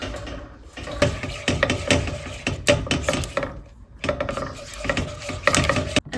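Eggs are stirred into brownie batter with a utensil in a bowl, producing a dense run of close, loud clicking and scraping strokes that pauses briefly midway and then resumes, without speech.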